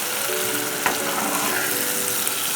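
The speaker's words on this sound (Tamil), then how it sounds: "எண்ணெயிலே நல்லா சுருளை இந்த மாதிரி நல்லா பெரட்டிகிட்டே இருங்க." Spiced masala for a dry fish and egg curry sizzles steadily in hot oil as it is stirred, a continuous close frying hiss with a faint scrape of the spoon, no voices.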